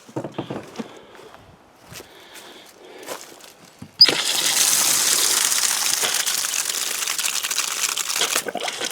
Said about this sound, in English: Some brown water coming out, but now she's running good.